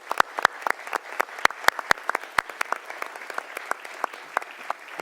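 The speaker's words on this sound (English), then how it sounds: "Please give them a round of applause." Scattered claps from a small audience at a formal religious liberty commission hearing, uneven and irregular rather than a full roar, fairly close and heard alone without talk.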